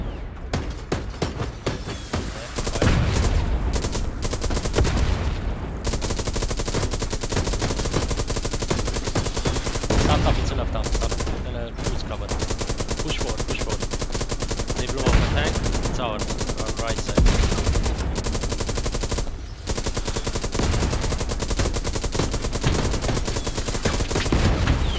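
Gunfire in the WWII shooter Hell Let Loose at Sainte-Marie-du-Mont, with dense, continuous machine-gun bursts and rifle shots, loud and near, barely pausing over the whole stretch.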